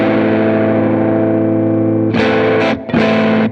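Electric guitar through an iSet analog flanger pedal with a little overdrive, a sustained chord swirling with sweeping flange, then a burst of sharper bright strums near the end, loud and up close.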